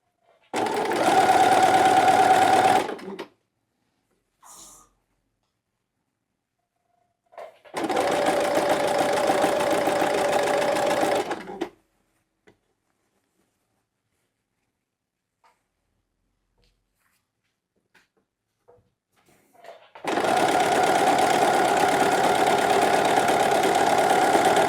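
An electric sewing machine stitches a seam on children's pajamas in three loud, close bursts of fast whirring, each a few seconds long, separated by quiet pauses with faint handling clicks.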